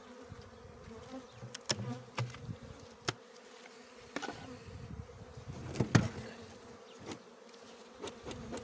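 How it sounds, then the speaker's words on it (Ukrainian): Honey bees buzzing around an opened hive during the first spring inspection after winter, on a windy day. A faint, steady drone runs throughout, with louder bees passing close by at intervals. "бджоли знервовані, тому що вітер"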